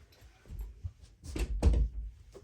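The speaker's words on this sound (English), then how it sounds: "I'm going to go close the door for her." A room door is pushed shut, with a few soft bumps and a dull thud near the end, fairly quiet and with no speech.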